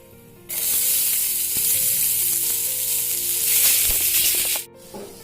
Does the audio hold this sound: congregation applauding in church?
no